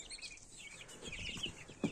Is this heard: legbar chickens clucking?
yes